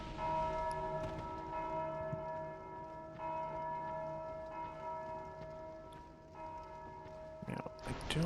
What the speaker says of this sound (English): This one has a guy with a bell in it.